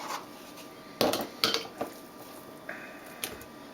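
Cubed beef seasoned with Mrs. Dash goes into canning jars for pressure canning, with several sharp clinks and knocks of utensils against glass scattered over a quiet room.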